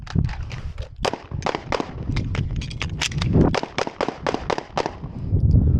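Pistol shots at a shooting range, a rapid string of sharp, close cracks fired one after another in an uneven rhythm with brief pauses and some faint movement between them.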